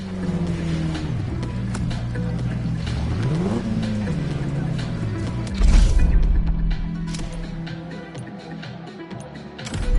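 A racing car engine in The Crew Motorfest racing game revs and surges in a Red Bull speed clash against a racing bike, a steady mid-volume drone with rising and falling pitch sweeps and a louder burst partway through.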